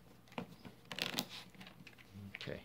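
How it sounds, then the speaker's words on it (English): Playing cards being shuffled by hand for a tabletop game, quiet riffling bursts and soft taps close by, faint and intermittent. "Do a good shuffle."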